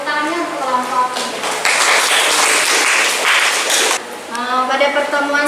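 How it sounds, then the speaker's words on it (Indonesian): Students in a classroom clap for a group's traditional dance performance in a short burst of applause lasting about two seconds, close and loud, framed by a person talking before and after. "Selamat tepuk untuk kelompok 3."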